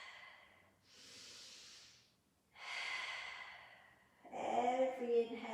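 Slow, deep breaths during a yoga forward fold: three long, airy inhales and exhales heard close and quietly, separated by brief pauses, with the last breath louder and rougher.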